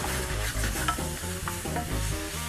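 Mushrooms sizzle loudly in a very hot pan, a dense continuous frying crackle with stirring scrapes and no talk over it.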